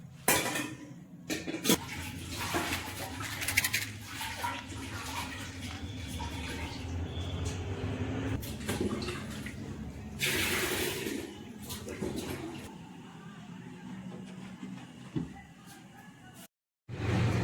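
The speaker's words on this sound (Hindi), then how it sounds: "जो सब्जी काटे थे उसको पानी में धोना पड़ेगा" Vegetables being rinsed in a pot of water, with steady sloshing, splashing and clinking of metal dishes up close, plus a brief louder gush midway.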